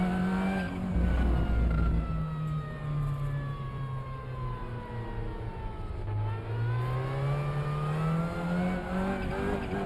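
A race car's engine drones steadily in RaceRoom at the Hungaroring during qualifying, its pitch climbing and dipping through gear changes with layered harmonic whine, loud and continuous with no talking.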